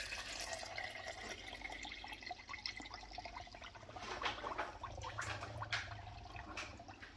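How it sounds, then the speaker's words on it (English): Cold water poured from a jug into the tank of a Tommee Tippee Perfect Prep machine, a soft continuous splashing and trickling with a few drips, fairly quiet and close. "Now you fill the tank with cold water."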